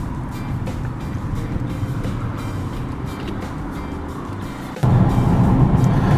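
Right-hand drive car driving on a European road, with a steady low engine and tyre rumble from inside the cabin that grows slightly louder near the end.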